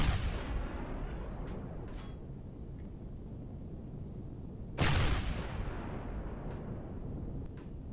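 Turret gunfire and artillery in the space game Empyrion, a dense continuous barrage with one sharp louder blast about two-thirds through, and scattered smaller shots over the rumble.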